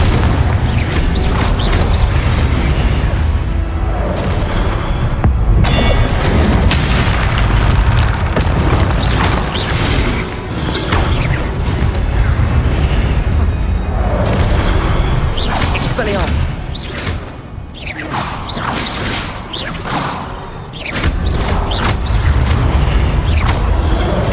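Repeated Confringo blasting-spell explosions boom loudly in the video game Hogwarts Legacy, heavy bursts rolling over dense combat sound, with voices calling out among them.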